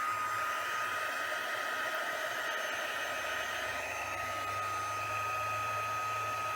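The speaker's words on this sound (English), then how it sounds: "Now I'm going to take my heat tool and I'm going to warm it up." Electric heat tool for embossing powder runs steadily as it warms up, a constant close whooshing blower hiss with a motor hum underneath, no talking.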